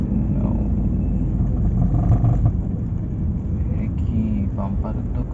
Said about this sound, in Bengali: সাইলেন্সারে মনে হয় একটু টান খেয়েছে, যার কারণে আওয়াজ করতেছে